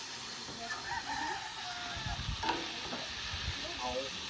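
Oil bubbles and sizzles softly while crispy pata (pork knuckle) fries in a pan heated by the sun outdoors in the Philippines. A faint, steady crackle carries on throughout, with a rooster crowing in the distance.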